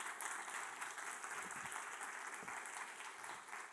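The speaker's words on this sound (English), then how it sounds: "So I want you to give them a big round of applause and invite them up." Audience at an AI and future-of-work panel event applauds the panelists, a steady wash of many hands clapping at moderate level, fairly distant and continuous throughout.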